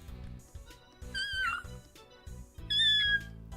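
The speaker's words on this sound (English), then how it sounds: "the most high-pitched, pathetic, pity me meow I've ever heard" A cat gives two soft, high-pitched, pleading meows, the second slightly stronger, close by over a low rhythmic background hum.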